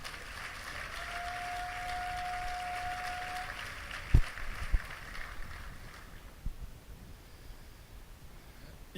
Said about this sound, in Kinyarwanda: mumumpera amashyi.